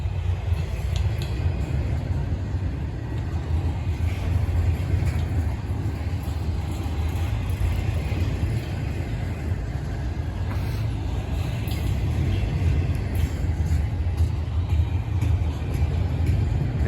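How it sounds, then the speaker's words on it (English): Deep steady rumble of a train running at full speed leaving Seneca Yard, a continuous low roar with faint high rattles and squeals over it, no talking. "The train's in full speed, looks like, ready to leave the Seneca Yard."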